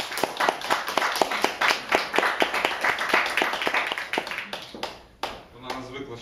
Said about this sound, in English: She's not used to being applauded.